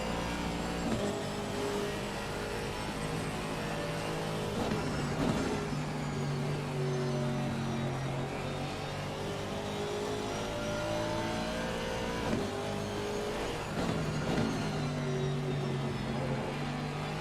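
Porsche race cars in a racing video game at Zandvoort, several engines revving and shifting gears with rising pitch sweeps, a steady loud roar throughout.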